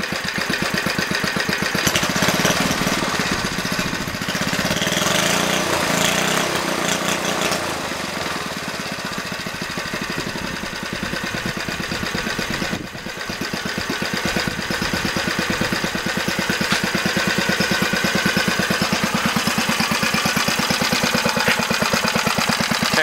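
A Briggs and Stratton 60102 small engine runs and idles loudly and close, with a steady rapid chugging and a brief dip partway through.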